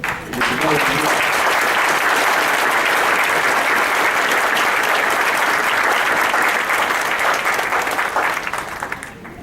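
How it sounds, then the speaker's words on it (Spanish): Loud, sustained audience applause fills a book presentation, steady dense clapping holding for about nine seconds before tapering slightly at the end. "Creo que merece otro aplauso."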